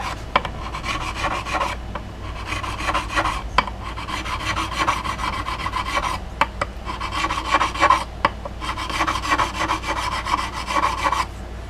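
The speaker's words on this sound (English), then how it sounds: "right now I'm just giving a rough crown to all of them, especially the ones I flattened off and I had to level a lot" Steady back-and-forth rasping of a file crowning the frets on a Teisco Bobcat guitar, close and continuous in repeated strokes with brief pauses, no talking.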